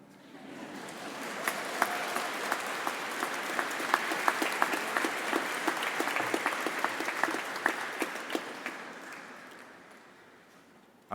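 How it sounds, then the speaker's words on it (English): A graduation ceremony audience for Truro and Penwith College 2023 graduates claps steadily, a broad swell of applause with a few sharper claps that builds, holds, then tapers off. "you can clap if you want to"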